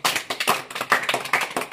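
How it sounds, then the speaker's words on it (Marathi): A small group, likely a classroom of students, claps for a classmate named Vijay in a quick, uneven rhythm of close, bright hand claps that runs steadily with no voices. "टाळ्या वाजवा सर्वांनी विजयसाठी"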